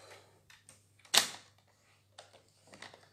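Paper being scored with a fold line for a Christmas card: a single sharp scraping stroke near the middle, with a few faint taps and rustles around it in a quiet room.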